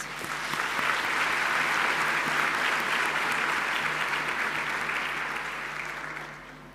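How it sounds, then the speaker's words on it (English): Members at a Golden Key new members ceremony give sustained, dense audience applause that stays even and loud for several seconds, then begins to fade toward the end. "I think you deserve a round of applause for that"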